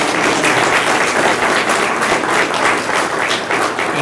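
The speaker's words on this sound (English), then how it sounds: "Let's give another round of applause for all three of our speakers." Audience at a Veterans Day 2013 ceremony applauding three speakers, a dense, steady wash of many hands clapping at close range, loud and continuous throughout with no voices breaking through.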